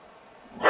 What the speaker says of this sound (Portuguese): Meu cachorro fica tá maluco aqui atrás de mim.